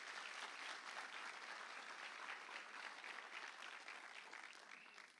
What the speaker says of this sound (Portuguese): Quem tem o sangue do Cordeiro, dê um aplauso ao Senhor Jesus bem forte.